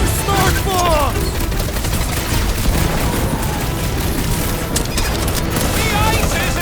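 Smart bombs explode in the Guardians of the Galaxy video game as a dense, continuous barrage of booms and crackling blasts, with whooshing effects and battle noise throughout.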